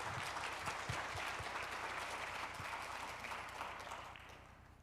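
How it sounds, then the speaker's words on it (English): An audience applauds after a policy keynote plenary at the SRNT 2020 conference: dense, steady clapping from a large room that holds evenly for several seconds, then begins to thin and fade toward the end. "Thank you, and a big round of applause."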